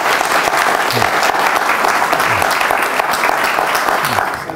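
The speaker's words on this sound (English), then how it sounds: "I think we all owe Geoff a round of applause." A full, loud round of applause fills the hall after a memorial address speech, dense steady clapping from a large audience throughout, easing slightly at the very end.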